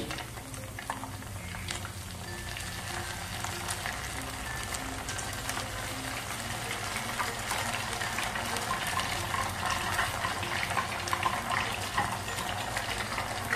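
Ghevar batter poured ladle by ladle into hot oil, giving a steady bubbling, frothy sizzle that runs continuously and fairly loud close by, with no talking over it.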